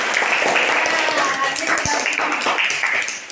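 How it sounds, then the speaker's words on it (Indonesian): A primary school class claps for a student, a steady dense patter of many hands with voices mixed into the clapping. "Berikan tepuk tangan untuk Andin."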